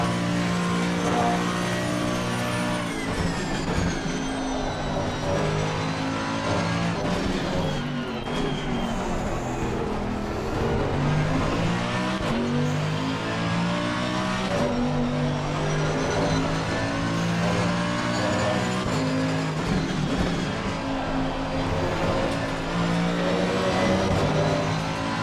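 GT3 race car engines in Assetto Corsa Competizione, including a Mercedes-AMG GT3 Evo in a multiplayer sprint race at Misano, roar steadily and loudly, climbing through revs and dropping at each gear shift, with other cars audible nearby.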